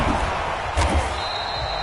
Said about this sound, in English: When that ball popped free, we could hear it all the way up here.